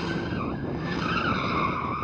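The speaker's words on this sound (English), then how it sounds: "Don't drift in reverse. Drift forward. Oh, poor tyres." A car drifting forward with its tyres squealing, a continuous loud screech with a roaring engine close by, heard alone.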